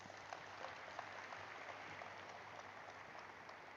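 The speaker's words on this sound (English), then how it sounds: "let's give an applause to all their team members as well" Applause for team members at a National Stock Exchange listing ceremony, a steady faint patter of many hands clapping in a large hall, continuous and even throughout.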